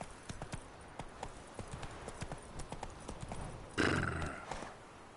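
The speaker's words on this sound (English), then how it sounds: "Run, Roach." Roach, a horse in The Witcher video game, gallops with quick, rhythmic hoofbeats, fairly faint, then lets out a brief whinny partway through.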